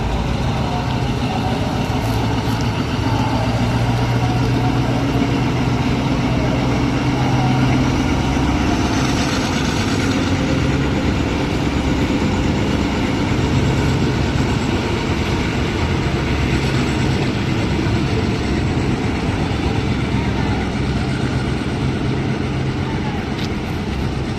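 A diesel locomotive hauls KIHA 40/48 railcars on a Thai railway, a loud, continuous engine rumble and rolling wheel noise that stays close throughout, with no voices.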